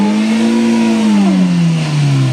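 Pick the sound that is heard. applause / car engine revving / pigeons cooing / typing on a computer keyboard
car engine revving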